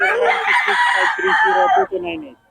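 A rooster crows loudly and close by in one long, wavering call, ending with a short clipped note.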